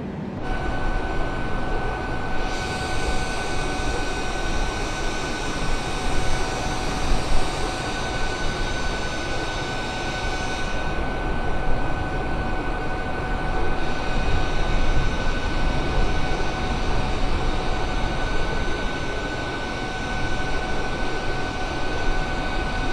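Boeing 787 jet engines in flight inside a flight simulator game, a steady loud broadband roar with constant high tonal whines running throughout, no voices.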